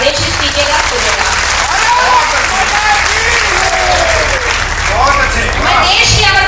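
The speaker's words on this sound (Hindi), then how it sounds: "एक बार पूरा सदन मुझे तालियां बजा करके आदेशित कीजिएगा" An audience in a hall claps steadily through the whole stretch, a dense sustained applause with a few voices and cheers rising over it.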